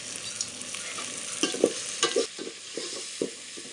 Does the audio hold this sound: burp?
no